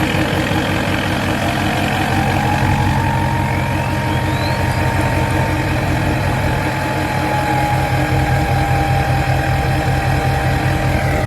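A deleted, tuned Cummins diesel in a Nissan Titan XD idles with a deep steady rumble and throaty exhaust drone, while a faint rising whine climbs slowly in the background; loud and continuous with no talking.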